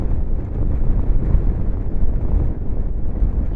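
Strong wind buffets the microphone in a constant low, rumbling roar that surges and dips without pause.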